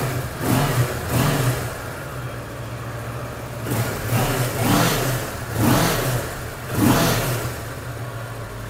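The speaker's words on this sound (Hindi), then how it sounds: "आइए कोई इसका स्टैंड ऊपर करके आपको इसकी आवाज़ भी सुना देते" A second-hand superbike with its stock exhaust, running on its stand, revs in about five rising and falling bursts over a steady idle, loud and close.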